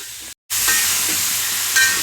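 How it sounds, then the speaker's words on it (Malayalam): Chicken with masala being stirred in a hot pan, a close, steady hissing sizzle broken by a brief silent gap, then resuming with a slight swell near the end. "ഇടുകുട്ടി പബ്ലിക് ഇത് നന്നായിട്ട് ഇളക്കാം"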